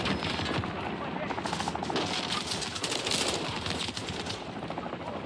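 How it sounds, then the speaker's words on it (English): A mounted machine gun on an armored vehicle hammers away in the Call of Duty Modern Warfare 3 campaign, rapid dense bursts running nonstop and loud while voices talk over the gunfire. "John got a mounted MG coming your way on an armored vehicle"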